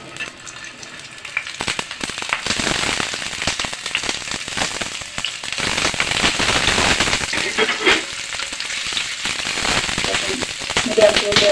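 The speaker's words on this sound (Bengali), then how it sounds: "গরম হয়ে গিয়েছে, এর মধ্যে আমি চিকেন বলগুলো দিয়ে দিচ্ছি ভেজে নেওয়ার জন্য।" Chicken balls dropped into hot oil in a pan for frying, a loud, crackling sizzle that builds and keeps popping, with someone talking over it.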